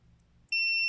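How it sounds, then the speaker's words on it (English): A single sharp, high electronic beep from a Mata 7 pump's settings button sounds abruptly after near silence and holds steady to the end. "Keep holding it down until you hear a beep like that."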